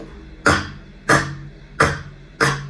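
Four sharp coughs at an even pace, each a loud burst with a short fading tail, close by with quiet between them.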